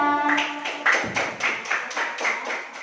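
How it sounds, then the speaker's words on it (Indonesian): A classroom of students claps together for a classmate in a steady, rhythmic beat of evenly spaced claps after a brief voice at the start. "tepuk tangan dulu buat Resya."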